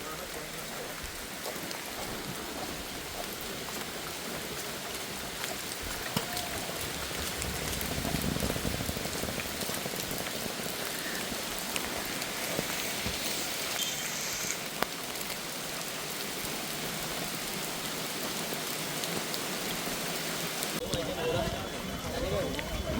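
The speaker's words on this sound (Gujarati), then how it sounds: "વરસાદ મસ્ત પડે છે" Heavy rain pours in a steady, dense hiss around walkers on the way into the Matheran hill station, with some voices in the background.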